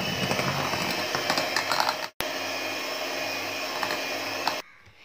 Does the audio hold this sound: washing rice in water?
no